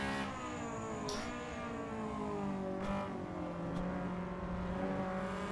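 An EG Honda Civic race car engine revs hard at Donington Park, a loud, continuous, rising drone heard from on board with brief gear-change dips, no talk over it.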